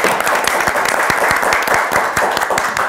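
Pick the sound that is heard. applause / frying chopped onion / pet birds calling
applause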